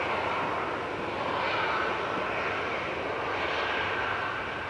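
An Icelandair Boeing 767 jet departs and flies past, its engines a loud, continuous roar with a hissing upper edge that swells and eases slightly as it passes overhead.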